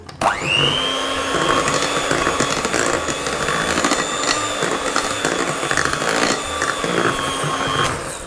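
An electric mixer whirs continuously through coconut loaf batter with desiccated coconut, starting abruptly after a brief click and holding a loud, steady motor hum with slight wavering as the batter churns.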